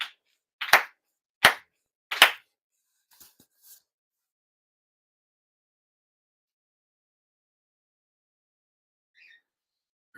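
At a Shinto ceremony, sharp ritual hand claps ring out close and crisp in a steady rhythm, followed by faint softer taps and then near silence.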